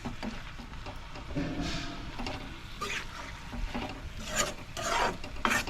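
Papad roasting in a kadai, heard as close, quiet scraping and rasping with soft crackle as it is turned and pressed against the hot metal, no speech.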